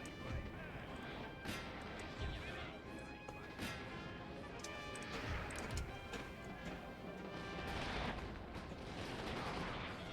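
Musket volleys crack at cavalry in the Napoleon Total War battle game, a dense run of sharp shots and crashes with galloping hooves and battle noise, while someone talks over it.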